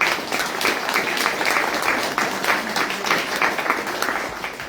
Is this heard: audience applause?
yes